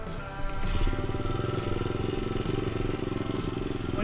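A light 190cc motorcycle climbs a steep hill, its engine buzzing in a loud, steady, close drone with a slight rise in effort early on and no voices.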